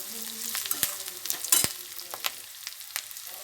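Onions frying in a pan for papaya kootu, a close sizzle with scattered sharp stirring clicks and scrapes, fairly quiet overall.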